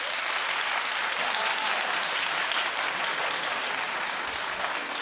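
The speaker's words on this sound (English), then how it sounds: "Clap if you don't like this relationship." Studio audience at a daytime talk show clapping in a dense, even roar of many hands, loud and sustained for the whole stretch with no pause.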